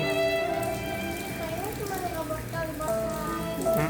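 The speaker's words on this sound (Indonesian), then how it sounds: "Di luar juga lagi hujan deras nih teman-teman." Heavy rain falls outside a leaking house in a constant, dense patter, with prominent sustained tonal sounds layered over it.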